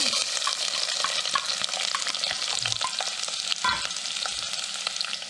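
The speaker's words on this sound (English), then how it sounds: "I've already got the oil heating up in the medium saucepan. I'm going to add the onion," Chopped onion hits hot oil in a medium saucepan and sizzles with a loud, steady crackle for several seconds, broken by a few stirring scrapes and clinks, with no talking.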